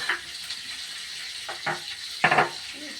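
Potatoes frying in a pan make a steady soft sizzle, with a few brief scrapes and clinks from a utensil rising above it.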